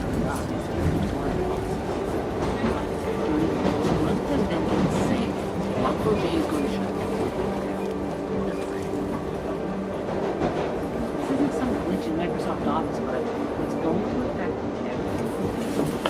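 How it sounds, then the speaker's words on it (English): Continuous rumble and rattle of a subway train in motion, a steady loud ride with wheel clatter and hum throughout, with faint voices in the carriage. "I'm on the subway"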